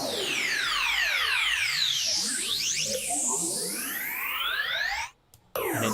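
A Serum synth preset from the Rhythm Revolution 2 pack, played in FL Studio for a hardwave track, gives loud, noisy, phasing sweeps with criss-crossing tones that rise and fall continuously, then cut out briefly near the end.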